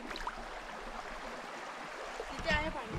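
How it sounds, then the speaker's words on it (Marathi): A river flows steadily over its bed on a morning in a Konkan village, a soft continuous wash of running water with a few small splashes and stirrings near the end. "पण आहे वाहतं पाणी"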